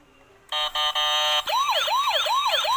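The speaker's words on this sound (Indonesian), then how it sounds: "Bunyinya kenceng juga ini ambulan." A toy ambulance siren sounds loud and close, first a few stuttering electronic tones, then a continuous warbling wail that sweeps up and down repeatedly.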